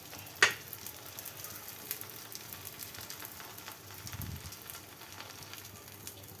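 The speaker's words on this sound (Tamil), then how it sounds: "அடுப்பில் தோசை கடை வச்சுக்கிட்டு அது காஞ்சதும் லைட்டாக எண்ணெய் விட்டால் போதும்" Aloo paratha fries in oil on a hot tawa with a faint, steady sizzle, opened by one sharp click and followed by light crackles.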